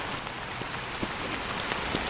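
A short stretch of heavy rain in a garden: a steady close hiss of rain on the ground and surfaces, dotted with distinct drop impacts, with no voices.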